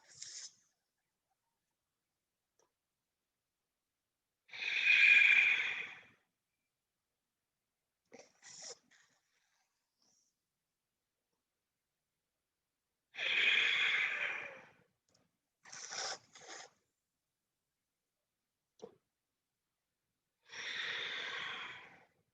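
Slow, deep breaths during a seated chair yoga back-bend exercise: four long, breathy exhales at regular intervals, each followed by short softer sounds, close and isolated against near silence.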